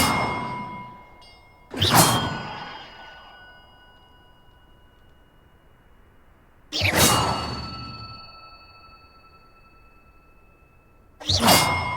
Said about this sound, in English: Perhaps the map contains clues about the order I'm supposed to ring the bells in.